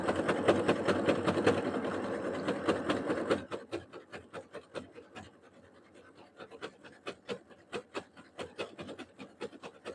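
A sewing machine runs a straight stitch back and forth, a loud steady whirring burst that gives way to quieter rapid ticking needle strokes, while sewing a pillow sham.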